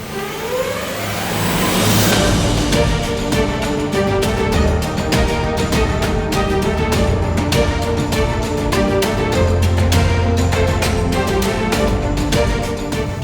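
Hyundai IONIQ 5 electric car driving on an open road in Rajasthan, India, with a steady loud rolling drone of tyre and motor noise throughout, under a faint rising whine at the start.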